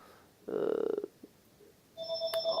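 A telephone rings faintly in the background, giving one bright, steady electronic ring near the end after a short buzzy rattle; no one speaks over it.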